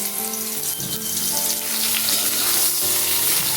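Cut ridge gourd frying over a high gas flame, a loud continuous hiss and crackle of hot oil holding steady throughout, close and with no voices.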